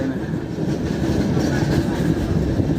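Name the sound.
train moving on the Visakhapatnam to Araku Valley route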